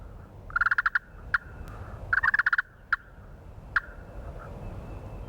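A wild turkey gobbles on a spring morning hunt: two rapid rattling gobble bursts, each followed by single sharper calls, carrying from a moderate distance over a low outdoor rumble.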